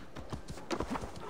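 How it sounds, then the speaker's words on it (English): Horse hooves clip-clopping in the Assassin's Creed Valhalla video game, a short run of quiet, evenly spaced hoof clops. "I need my horse."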